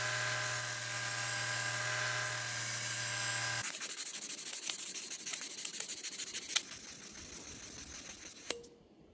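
A Dremel rotary tool grinds a brass-scaled knife handle, starting with a steady motor hum, then shifting to a rougher, scratchy grinding texture with a few sharp contact spikes.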